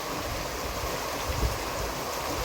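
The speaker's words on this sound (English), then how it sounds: "That's the creek that runs past the campground" Constant broad rush of a creek running past a campground near an 1877 grist mill in Keremeos, a steady, fairly close wash of water with no talk.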